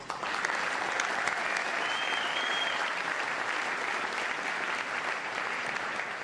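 A large audience at a presidential event with the Australian Prime Minister breaks into dense, sustained applause, many hands clapping steadily for several seconds at a fairly even level, with no voices on top.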